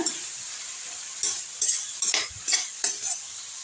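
Coconut being sautéed in a kadai, with a light sizzle and a few quick, sharp spatula scrapes against the pan.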